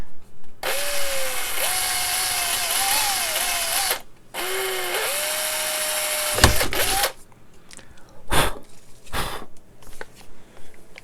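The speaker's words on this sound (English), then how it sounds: "That's a really blunt drill bit." A power drill with a blunt bit whines loudly in two long bursts, its pitch dipping and rising under load, followed by a few sharp knocks and clatters.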